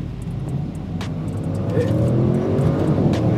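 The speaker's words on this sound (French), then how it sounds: "On va rétrograder." An Audi RS6 engine drones inside the cabin, its pitch dropping then rising as it downshifts and accelerates with a steady growing roar.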